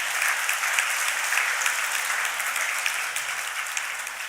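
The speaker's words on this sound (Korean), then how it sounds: "우리 격려의 박수 한번 보내주시기 바랍니다" A church congregation in Korea gives a round of encouraging applause, with dense, steady clapping from a sizable crowd at full volume throughout.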